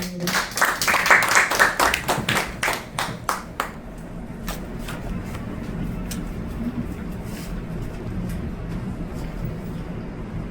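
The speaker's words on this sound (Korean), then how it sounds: "여러분 큰 박수로 맞이해 주시기 바랍니다" An audience at a Korean literary award ceremony claps in welcome as a poetry reciter is introduced, with loud, quick handclaps for about four seconds that thin out and fade into quieter room murmur.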